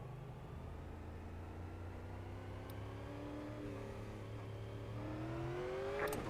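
Super late model race car in the iRacing game pulling away at a restart, a quiet steady engine drone that rises in pitch as it accelerates, with faint rival cars around it and no talking.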